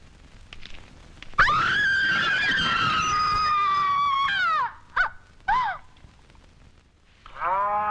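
A water buffalo lets out a long, loud lowing call at close range, followed by a few shorter, falling moos and a final drawn-out bellow, with pauses between the calls.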